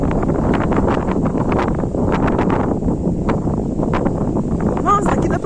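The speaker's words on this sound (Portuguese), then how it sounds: "Tá um vento, meu Deus." Strong wind buffets the microphone in a small hillside village street in Paranapiacaba, a steady roaring gust throughout, with a person speaking over it.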